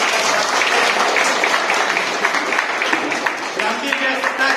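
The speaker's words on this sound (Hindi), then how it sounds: "एक बार जोरदार ताली।" An audience at a community discussion meeting breaks into loud, sustained applause, a thick, continuous clatter of many hands, with a voice faintly audible beneath it toward the end.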